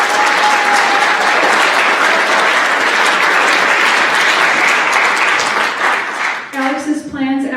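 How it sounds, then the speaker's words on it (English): Sustained applause from a high school spring concert audience honoring a student, dense and steady for about six seconds before fading as a voice begins speaking at the end. "let's give Alex a round of applause for coming to the show."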